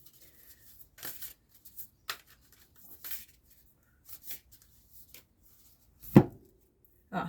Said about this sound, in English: Let's give these another shuffle.